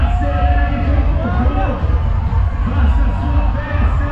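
Spectators at the 2023 Rio Marathon cheering and shouting as runners pass, a loud continuous crowd roar with babble and voices close by.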